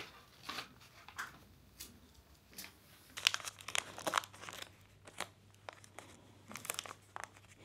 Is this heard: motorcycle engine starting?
no